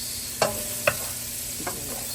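Onions sizzling in a pan while pancit is cooked, a soft steady fry with two or three sharp clinks of stirring against the pan.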